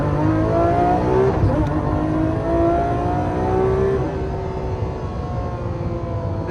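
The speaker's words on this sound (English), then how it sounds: "you got this beautiful sounding V12" A Lamborghini Aventador SV's V12 engine revs loudly and close, rising and falling through several pitch sweeps with a steady roar beneath.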